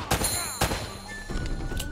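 Video game gunfire from Uncharted: Drake's Fortune, with several sharp, loud shots in quick bursts, spaced across the moment amid game effects and a faint voice underneath.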